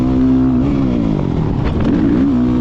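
A dirt bike engine on a motocross track roars steadily and loud at close range, its pitch dipping and climbing as the rider works the throttle during a staggered-start sprint race.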